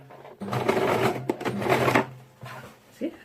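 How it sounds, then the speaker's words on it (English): A sewing machine runs a zigzag stitch on a ruffle puff crop top with elastic, in two close bursts of rapid, buzzing stitching separated by a brief pause. "you'll be sewing this with a zigzag stitch"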